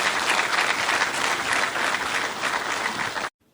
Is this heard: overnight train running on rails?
no